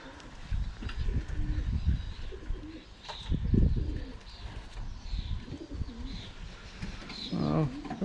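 Pigeons coo softly nearby amid rustling and handling noises during bird marking, with low repeated coos and a few chirps, and someone speaks quietly in the background.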